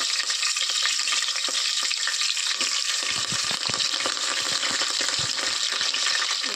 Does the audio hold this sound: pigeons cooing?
no